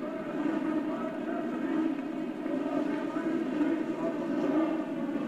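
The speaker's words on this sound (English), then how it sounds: "Looks like everybody has gotten their engines underway." Massed Indy race car engines running together at the 1984 Indianapolis 500, a steady, dense drone of revving motors heard from a distance across the crowded speedway, continuous and even throughout.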